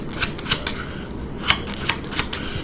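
A deck of playing cards being shuffled during a magic trick, with a quick run of crisp riffling flutters and soft snaps close up, no voices.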